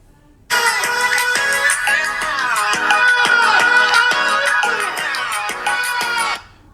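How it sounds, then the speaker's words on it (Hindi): Music from the stereo speakers of a Vivo V70 Elite, a bright melodic tune with evenly spaced plucked notes, loud and close, playing steadily for about six seconds before stopping abruptly. "अब चेक करते हैं वीवो का साउंड।"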